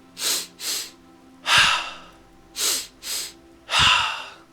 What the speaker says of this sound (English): breathe 2 breaths in through the nose in really short, sharp, rapid succession